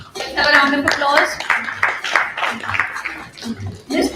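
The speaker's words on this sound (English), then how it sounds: "Let's have a round of applause." At a diagnostics panel event, the audience applauds briskly and fairly close, while voices carry on talking over the clapping throughout.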